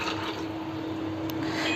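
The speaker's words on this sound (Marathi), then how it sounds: "ते पाणी घालून चांगलं असं धुवून घ्यायचं मिक्सरचं भांडं" Reserved tomato water is poured into a mixer jar to rinse it, a soft continuous splashing and gurgling of liquid close by, without speech.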